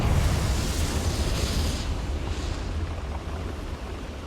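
Confringo fire spell explosion in Hogwarts Legacy, a dense roaring blast of noise that stays loud and steady for several seconds before easing slightly, with no voices over it.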